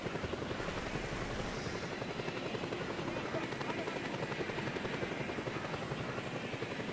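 A helicopter in the video game Just Cause 2 drones steadily with a dense, pulsing rotor thrum that holds constant and moderately loud throughout.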